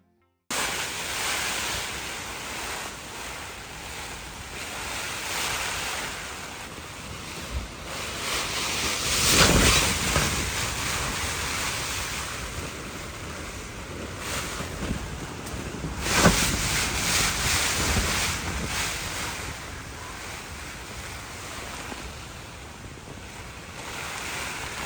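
Rain and gusting wind outdoors beside a Lake District lake during a storm: a steady, dense hiss with swelling gusts and buffeting, continuous and moderately loud, with no voices.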